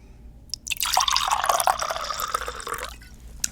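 A drink is poured into a glass in one steady stream lasting about two seconds, close and clear, with a rising fill tone before it stops.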